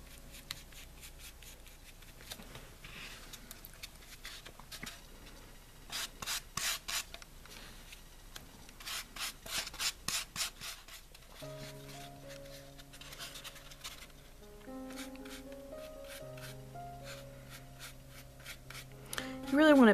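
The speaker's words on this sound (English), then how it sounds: "Just mix the two together with your paintbrush until you get an even consistency." Paint and spackling stirred together with a paintbrush, producing soft, irregular brushing and scraping strokes in bursts, with gentle music coming in over the second half.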